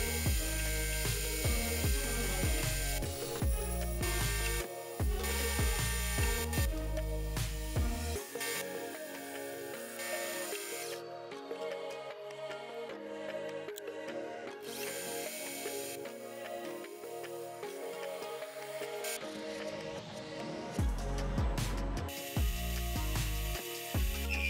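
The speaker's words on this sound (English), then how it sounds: "We're gonna get this guy bored out so that the inner diameter is around 1 1/4 inch." Metal lathe boring out the inner diameter of a steel part for a Wadkin planer guard: a loud, continuous machining whine and grinding with shifting tones, starting and stopping at intervals, and no voices.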